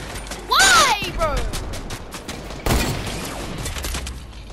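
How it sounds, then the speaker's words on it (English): Gunfire in an online shooter game, a quick burst of shots followed later by a louder crack, with excited voices talking over the action. "They just shot me through the wall."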